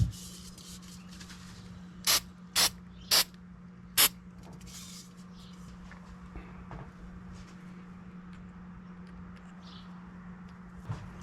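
Four short bursts of glue accelerator sprayed during an Ibanez acoustic guitar repair, sharp hissing puffs over a steady low hum in a quiet workshop.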